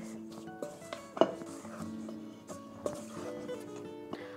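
Egg being mixed into dough in a bowl, with repeated light clinks and knocks of a utensil against the bowl and soft stirring between them, close and moderately quiet.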